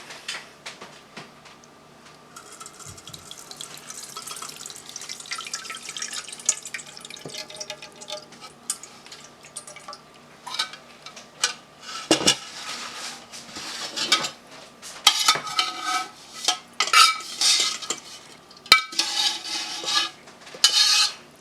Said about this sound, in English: We're going to strain it through a fine mesh strainer into a bowl